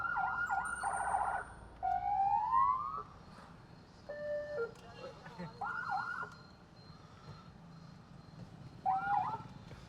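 Loud electronic 400-watt vehicle hooter siren wails and yelps in bursts, with rising sweeps and warbling tones repeating several times, some gaps between.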